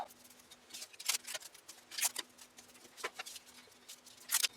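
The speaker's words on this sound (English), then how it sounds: "Scissors, cut it off." Scissors cut wire while a homemade TV antenna is being built: a series of quiet, sharp snips and clicks at close range, spaced irregularly over a soft background hum.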